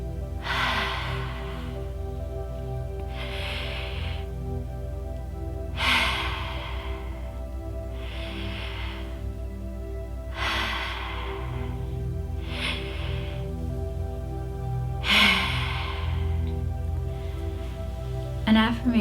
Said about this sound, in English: follow along with me for the next 4 times for the deep breathing